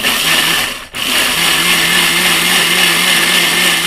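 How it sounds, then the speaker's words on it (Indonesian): An electric blender grinds spices for a goat meat dish, giving a loud, steady whirring drone up close. It has one brief dip in the motor sound near the start and no talking. "Kita blender dulu."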